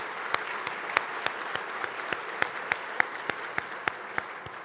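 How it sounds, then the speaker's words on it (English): An audience at a State of the Airports event applauds its sponsors, a fairly quiet, even patter of claps with a few sharper individual claps standing out at regular intervals. "Can we have a round of applause for all of our sponsors?"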